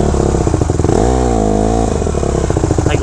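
A 2014 Honda CRF 150R dirt bike engine runs loud and close, its rough throaty note revving and dipping in pitch, with chain and frame clatter throughout.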